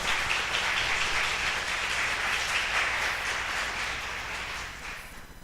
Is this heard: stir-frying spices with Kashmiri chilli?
no